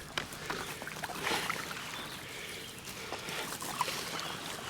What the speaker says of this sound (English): I'll just paddle like this